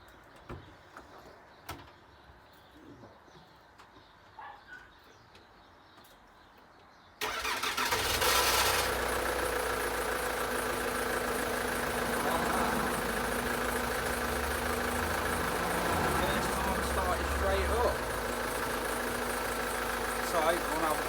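A Ford Transit mk6 truck engine that has sat unused for a week or two cranks and catches, then settles into a loud, steady idle with a low rumble that continues to the end.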